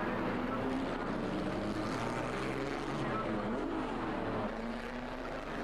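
Pre-1961 historic Grand Prix racing cars at Monaco, including a Maserati, a loud continuous engine drone with shifting pitch as a car passes close.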